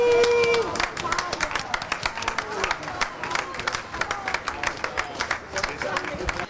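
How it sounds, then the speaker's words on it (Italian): Crowd at an election victory celebration in Treviso, a dense patter of close clapping and cheering with voices talking through it, an early tone fading out. "Abbracci e applausi in una festa andata avanti tutta la notte"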